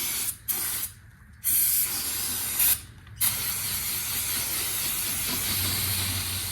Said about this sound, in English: we'll grab this brake clean and see if we can get this little area a little bit cleaner